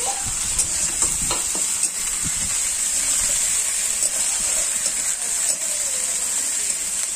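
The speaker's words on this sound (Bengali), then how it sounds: "তো আবার রসুন ভেজে নেবো" Garlic and ginger paste fry in a pan with a continuous close sizzle and hiss, punctuated by scattered stirring clicks and scrapes, with no talking.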